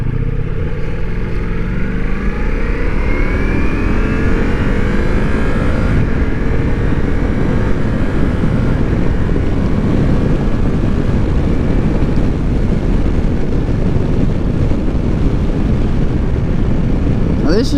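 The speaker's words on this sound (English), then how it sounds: "This has got the V4 engine based off the Panigale Street Fighter motor" A Ducati Multistrada V4S with a V4 engine derived from the Panigale Streetfighter motor, engine and exhaust droning while riding, pitch rising through gears under heavy wind rush.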